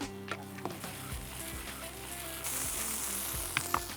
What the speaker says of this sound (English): So let this all saute.